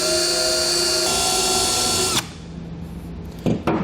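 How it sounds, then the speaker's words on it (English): A power drill whirs steadily at high speed for about two seconds as its bit marks through a cardboard template, then stops; a couple of brief clicks and scrapes follow. "I'm just going to use my drill bit just to make a mark in these 4 locations."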